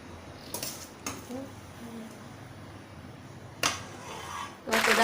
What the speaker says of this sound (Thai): เราก็ตักใส่จานเสิร์ฟเลยนะคะ